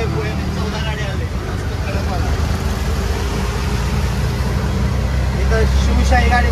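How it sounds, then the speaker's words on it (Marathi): An MSRTC Shivshahi bus pulls out, its engine rumbling low and steady nearby and building slightly toward the end, with people talking over it. "इथं शिवशाही गाडी बाहेर निघते"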